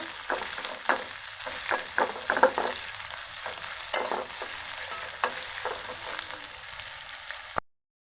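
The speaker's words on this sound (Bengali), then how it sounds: "পেঁয়াজটা ভেজে নেব" Sliced onion and green chili frying in oil in a pan for a fish curry, a soft continuous sizzle broken by a series of sharp spatula scrapes and taps, fairly quiet and close.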